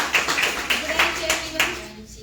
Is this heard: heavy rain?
no